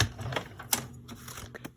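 A worn, rusty paper trimmer blade slices through cardstock, giving a few scraping, clicking strokes with one sharp snap partway through. The sound is close, moderately loud and has no talk.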